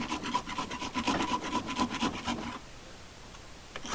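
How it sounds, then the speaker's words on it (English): A metal file rasps across the end of a small concave swivel fitting on a Wagtail window-cleaning squeegee, about a dozen quick close strokes in steady rhythm for two and a half seconds, then near silence with one faint scrape at the end. "gave it a bit of a filing right at the end"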